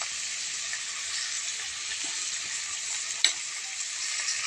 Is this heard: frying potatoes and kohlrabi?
yes